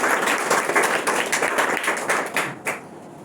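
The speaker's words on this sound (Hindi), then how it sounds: "उनके लिए जोरदार तालियां" An audience of schoolchildren applauding for the youth committee treasurer at a school event, dense clapping that swells and then tapers off near the end.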